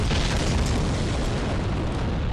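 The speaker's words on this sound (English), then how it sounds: "As you heard, that was a massive explosion of sorts" A massive explosion in the video game Dark Souls on the fortress rooftops, a loud sustained roar of broadband rumble with deep low-end booming that holds steady for the whole stretch without any talk.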